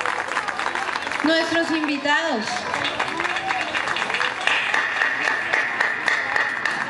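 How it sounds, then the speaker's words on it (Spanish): Applause from an audience for young dancers at a dance event in Girardot, clapping mixed with cheering and a host speaking over it. "Todo es arte, un aplauso fuerte, fuerte para estos jóvenes del SENA."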